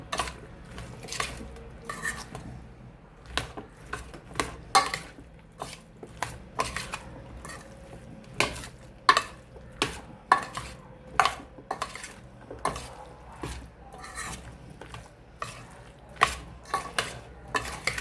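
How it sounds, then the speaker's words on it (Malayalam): Pineapple stirred in a pan, with a steady run of sharp spoon-on-metal scrapes and knocks in an uneven rhythm over a soft frying sizzle, close and fairly loud, with no talk. "ഇതിലേക്ക് നമ്മുടെ പൈനാപ്പിൾ, ശരിക്കും അങ്ങോട്ട് ഇളക്കാം."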